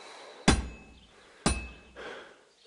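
A hammer strikes a sword on an anvil at a forge in Kingdom Come Deliverance 2, two loud, sharp metallic blows a second apart, each ringing briefly, with a softer clank after.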